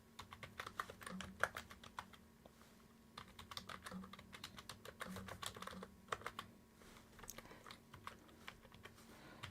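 Close, continuous clicking and clacking of a computer keyboard as someone types quickly, with irregular bursts of keystrokes and brief pauses.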